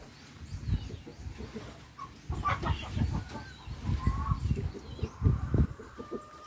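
Backyard chickens cluck and murmur close by in irregular bursts, a few higher calls rising over the low chatter of the flock, with no talking.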